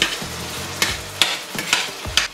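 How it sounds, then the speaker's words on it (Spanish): Potato is mashed together with Swiss chard in a frying pan over moderate heat, with steady sizzling and repeated scraping strokes of a utensil against the pan, loud and close, with no talking. "Machacamos un poquito la patata para que se mezcle mejor con la acelga"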